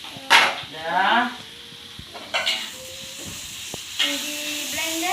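Chili peppers frying in a pan for sambal, a soft hiss and sizzle with occasional stirring sounds, under intermittent singing or humming voices nearby.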